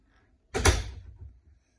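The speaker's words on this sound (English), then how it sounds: "So you can shut this door." A door in the master suite of a house swings shut with a single solid thud and a short rattle that fades over about a second, loud against near silence.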